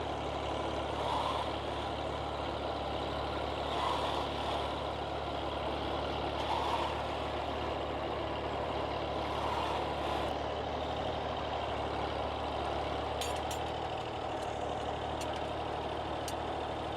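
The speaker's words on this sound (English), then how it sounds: "This time we've got a McCormick International, a V275 diesel." A McCormick International V275 diesel tractor runs at a ploughing match, its steady engine drone continuous and fairly near, with a few faint clicks and knocks over the hum toward the end.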